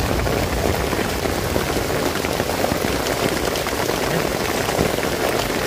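Heavy rain pours steadily on a tarp outdoors, a dense, even hiss of drops that fills the whole moment without pause and with no voices.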